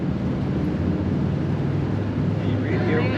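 Blower motor of a 1956 Pontiac Chieftain Catalina running, a steady, broad airy whoosh with a low rumble, constant and fairly loud inside the car.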